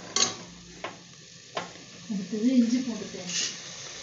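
Tomatoes and coriander sauté in a pan for a mutton dish, with a few sharp spatula scrapes over a light, steady sizzle and a low murmuring voice in the middle.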